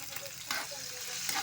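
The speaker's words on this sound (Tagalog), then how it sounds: "gisa na tayo ng sibuyas, bawang" Onion, garlic and black mushroom sauté in a hot pan with a soft, steady sizzle and faint stirring scrapes, quiet and close.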